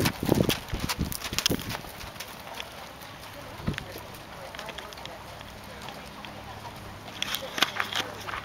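Rhythmic hoofbeats of horses cantering on soft ground, a steady drumming that fades back and returns louder toward the end.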